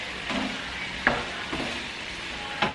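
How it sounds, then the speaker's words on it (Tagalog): Potatoes fry in a pan with a steady, moderate sizzle and a few scraping stirs, heard close up and without any voices. "Tapos iprito pa natin ng konti yung para hindi ma-overcook yung patatas"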